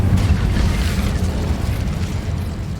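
Incendio fire spell in the PS5 game Hogwarts Legacy, a dense, loud rumbling blast of roaring flame that stays strong and steady throughout.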